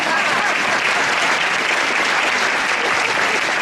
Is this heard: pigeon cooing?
no